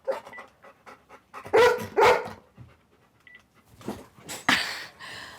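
A working dog barks in a few sharp, loud bursts between stretches of quick, breathy panting, close by and with no talking.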